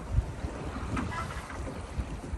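Wind and water noise aboard a sailboat in a light breeze, a soft steady rush with low rumbling buffets and a few bumps, fairly close and continuous with no talk.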